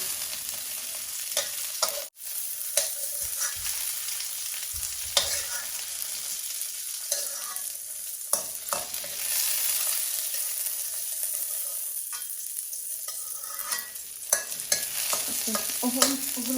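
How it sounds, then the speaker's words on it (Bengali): Green chillies fry in a pan, giving a steady, close sizzle of hot oil throughout, with occasional scrapes and clinks from stirring and no voices. "কাঁচামরিচ যেটা দেখলাম এগুলো আমি একটু ফ্রাই করে নিচ্ছি"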